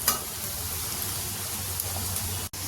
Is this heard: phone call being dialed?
no